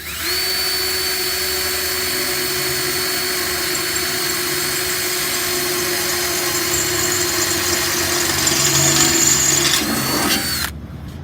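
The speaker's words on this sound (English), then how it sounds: "Drill that bitch out a bit for the centre wire to go in." A power drill whines continuously at high speed for several seconds, drilling out a box trailer tail light for the centre wire, with a steady motor hum, rising slightly near the end before stopping abruptly.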